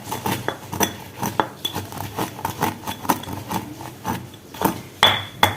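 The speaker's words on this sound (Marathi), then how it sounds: "तर व्यवस्थित आपल्याला कुटून घ्यायचे आहेत, असे रगडून रगडून कुटायचे आहेत सगळीकडून" Rice grains pounded and ground in a new stone mortar and pestle, giving a steady run of sharp stone-on-stone knocks and gritty rubbing strokes, close and fairly loud, with no talking.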